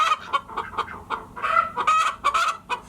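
Icelandic hens cluck close by in a steady run of short, repeated calls, some louder and drawn out, with no voices present.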